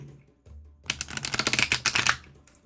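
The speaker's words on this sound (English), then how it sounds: "these are so hard to shuffle because they're really big" A large, oversized deck of tarot-style cards is riffle-shuffled close by, a quiet pause followed by a fast burst of crisp flicking clicks lasting about a second before it settles.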